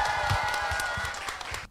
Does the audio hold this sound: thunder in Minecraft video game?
no